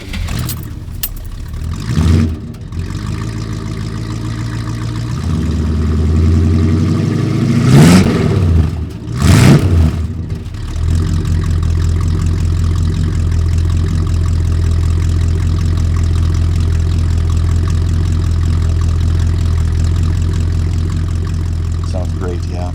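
A 1959 Chrysler New Yorker engine with dual exhaust idles with a deep, steady low rumble throughout, briefly revving louder near the start; people talk over it in the first half.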